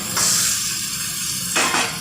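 Prawns dropped into frying spice paste of cumin and tomato in a pan, a loud burst of sizzle and spatter with stirring scrapes that eases and flares again, close and without talk.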